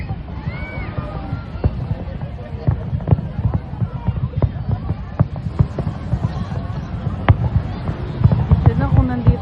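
Fireworks display at the Burj Al Arab in Dubai for 2025, a steady run of sharp pops and bangs over a constant crowd murmur, with some voices talking nearby.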